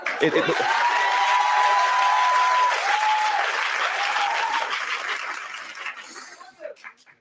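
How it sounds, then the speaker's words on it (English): A studio audience of a daytime talk show claps in a dense, sustained burst with scattered whoops, then fades into lighter clapping, a few chuckles and voices near the end. "I don't know if they paid y'all to clap or what"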